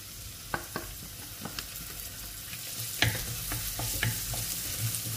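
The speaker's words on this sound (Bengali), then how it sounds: "এখন তেলটা দিয়া আমি আস্তে আস্তে পেঁয়াজগুলা দিয়া দিলাম।" Onions with green chili powder sizzle steadily in a small amount of oil while a spatula scrapes and stirs, giving sharp clinks now and then, close and fairly loud, with no talking.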